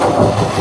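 IH 986 tractor engine running as it is put in gear, a loud, close, rumbling mechanical drone over a brief moment with no talk.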